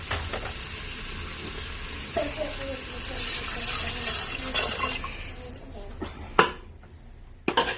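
Water pours and splashes steadily into a pot for several seconds, with a hissing wash of sound and a few sharp clanks near the end.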